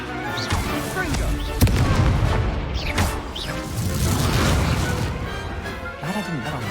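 A Confringo spell in the Hogwarts Legacy video game bursts with explosive booms and crashes in a duel, mixed with whooshing spell effects and voices calling out amid loud game action.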